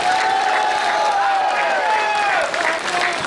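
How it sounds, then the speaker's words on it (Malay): A large crowd at a political rally claps and cheers loudly, with continuous dense applause and whistling, shouting voices filling the space throughout. "Kita bagi tepukan gemuruh kepada rakan-rakan kaum Cina dan India."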